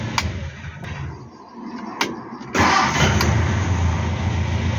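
A Hillman Super Minx engine fitted with a new Powerspark electronic ignition module cranks and catches, settling into a steady, loud idle close by after a few brief clicks and a quieter stretch.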